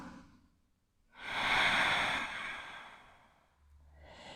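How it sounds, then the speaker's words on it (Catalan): A deep inhale during a yoga session rises out of near silence, grows into a long breathy rush lasting about two seconds, then fades into a softer exhale. "Una respiració profunda aquí,"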